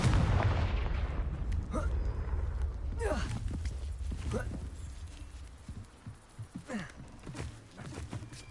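Spell explosions from Hogwarts Legacy, a few booming blasts and crackling impacts over a rumbling game soundscape, with a voice speaking at times.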